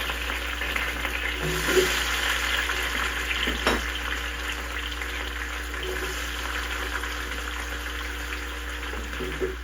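Brown stew fish frying in hot oil, a steady close sizzle running throughout with a few faint pops and small clinks over a low hum.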